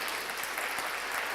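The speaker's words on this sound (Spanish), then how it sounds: "¿Cuánto le dan un aplauso a Jesús por eso?" A church congregation applauds together, giving a dense, even wash of clapping that holds steady throughout.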